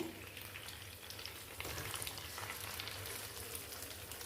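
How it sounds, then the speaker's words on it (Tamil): Rock fish is placed into well-heated oil for a Tirunelveli-style fish curry, a dense, continuous frying hiss and crackle that swells slightly partway through, with no talking. "இப்போ வந்து இந்த மீனை எண்ணெய் நல்லா காஞ்சிட்டு ஃப்ரெண்ட்ஸ் நம்ம அப்படியே போட்டுருவோம்"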